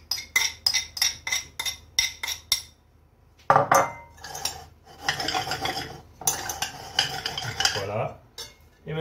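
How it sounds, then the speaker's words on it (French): Zucchini and spring onion are stirred into pasta in a bowl, with a rapid series of metallic utensil clinks followed by wetter, continuous scraping and mixing sounds. "nous allons mélanger la courgette et la cébette à nos pâtes"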